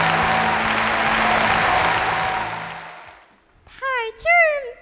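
A studio audience at a Chinese family variety show bursts into loud, sustained applause to welcome Peking opera performers, a grandparent and grandchild, then the clapping fades and a sung opera voice begins.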